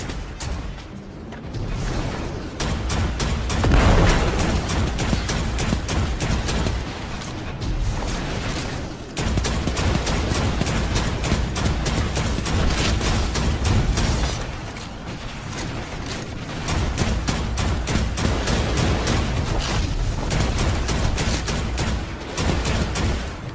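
Skyburner's Oath, an exotic weapon in Destiny 2, fires a steady stream of loud explosive shots, dense rapid bursts continuing for over twenty seconds with brief pauses between volleys.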